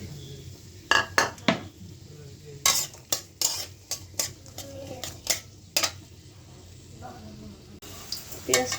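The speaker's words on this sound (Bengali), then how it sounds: "পেঁয়াজ আর কাঁচা মরিচগুলো দিয়ে দিব।" Onions and green chilies hit hot oil in a wok and sizzle while a spoon clatters and scrapes against the metal in sharp, irregular strokes, with occasional talk in the background.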